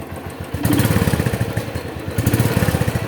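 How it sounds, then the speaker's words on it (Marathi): A Royal Enfield Thunderbird 350 motorcycle engine revs up briefly twice, its throbbing exhaust rising and swelling between moments of steady idle, close and fairly loud. "फक्त आपण थोडं ॲक्सिलरेट करूया हलकासा"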